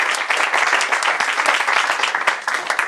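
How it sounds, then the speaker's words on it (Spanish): A church congregation bursts into dense, loud applause, many hands clapping together in a steady, sustained roar from start to finish. "Denle pues una ofrenda de palmas a Dios"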